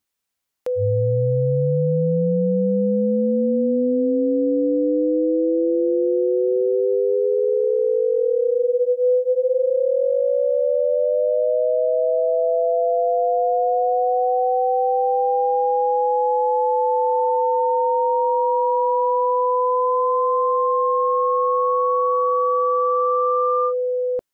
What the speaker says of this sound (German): Jetzt hast du den kubischen Differenzton bestimmt gehört.